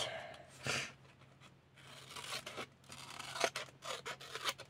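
Scissors snip through paper while making a scrapbook embellishment, a few close, crisp cuts in quick bursts with soft rustling between them.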